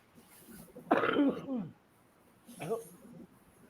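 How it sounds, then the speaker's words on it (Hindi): Two harsh coughs, a louder, longer one followed by a shorter one after a brief pause, close by and with no speech. "थोड़ी तबीयत ठीक नहीं थी अभी, थोड़ी खांसी"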